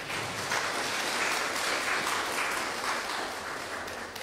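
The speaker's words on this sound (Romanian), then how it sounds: "Și aici o să vă rog o rundă de aplauze." An audience claps steadily through a round of applause at a cultural and educational centre event in Buzău, a dense even wash of hands that fades slightly toward the end, with no talking over it.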